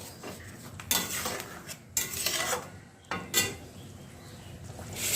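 Garam masala being stirred into a simmering curry of banana-flower fritters in a pan, with three bursts of a spoon scraping and clinking against the metal amid soft bubbling; no one speaks.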